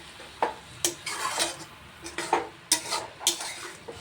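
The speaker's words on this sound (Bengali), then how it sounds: "তারপর পালং শাকটা মুগ ডাল দিয়ে নাড়াচাড়া করে" A utensil scrapes and clinks against a pan while spinach is stirred with mung dal, giving a run of short, close scraping knocks over a faint sizzle, with no voices.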